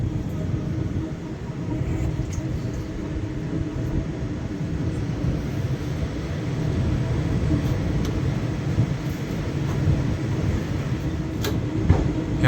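The Varanasi Mahamana Express rolls steadily along rails near Jaunpur, a continuous low rumble of wheels and carriage noise heard from on board, fairly even in loudness throughout with faint occasional clanks.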